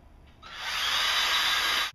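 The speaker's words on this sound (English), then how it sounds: "we're going to drill our pilot holes in here" A power drill whines steadily for over a second, starting abruptly and cutting off sharply, close and fairly loud, with no talking.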